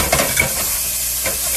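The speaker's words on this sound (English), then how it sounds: "get that nice sizzle." Onions frying in hot oil in a pan for ramen give off a steady, close hiss with faint stirring scrapes and clinks over the sizzle, without any voices.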